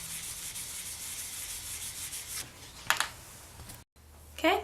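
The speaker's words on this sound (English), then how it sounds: "So I'll just continue sanding in this circular motion through all of the grits until I am done" A resin desert jewel pendant is sanded by hand in circular motions, producing soft, close, continuous rubbing and scratching with a few sharper scrapes near the end.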